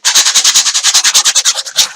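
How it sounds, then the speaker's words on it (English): Sandpaper rubbed briskly back and forth over a foam aircraft wing, roughening the foam so laminate will stick: a loud, close, steady run of about sixteen rasping strokes with no talk. "run some sandpaper over this wing and just rough up this foam a bit so that this laminate will stick"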